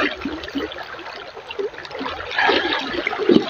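A strong river current rushes and gurgles steadily, a broad watery noise that swells slightly louder toward the end, with no talk over it.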